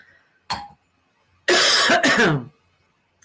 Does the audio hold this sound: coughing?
yes